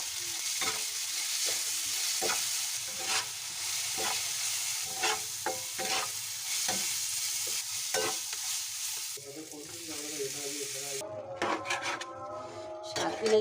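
Ginger and garlic frying in oil on a pan, a continuous sizzle broken by repeated scraping strokes of a spatula stirring, close and moderately loud, with the texture shifting toward the end as more stirring and clatter come in.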